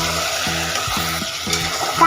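Mutton nihari masala sautéed and stirred in a pot, a continuous close sizzle with rhythmic scraping strokes repeating about every half second.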